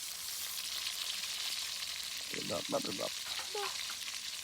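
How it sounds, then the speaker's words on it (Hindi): Ginger, garlic and green chilli hitting hot oil in a pan give a steady, fairly faint sizzle that runs throughout, with a few brief louder bursts of frying near the middle. "तेल इधर गर्म हो चुका है, अभी हम ये ऐड कर लेंगे। ये है अदरक, लहसुन और हरी मिर्च।"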